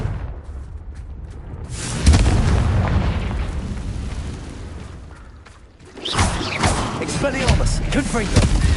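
A Confringo explosive spell goes off in Hogwarts Legacy, a loud close blast followed by a rumbling roar, then a second burst of crackling combat noise, with no talk over it.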